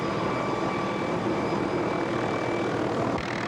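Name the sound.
rescue helicopter hovering in gusty winds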